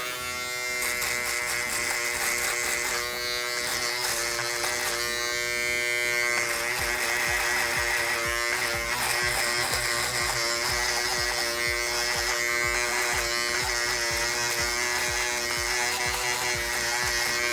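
An electric shaver buzzes continuously up close during a mid taper mullet haircut, its steady whine shifting slightly in pitch as it moves, with no voices.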